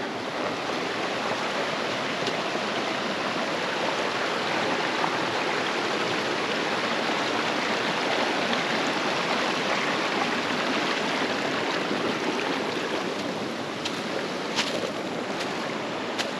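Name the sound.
mountain river flowing over boulders and logs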